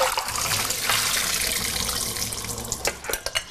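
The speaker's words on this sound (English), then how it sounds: "I have 2 cups of raw cashew nuts right here soaking in water. So I'm going to drain these now." Water pours and splashes steadily as soaked raw cashew nuts are drained, a broad running rush with a few sharper drips and gurgles toward the end, close and alone.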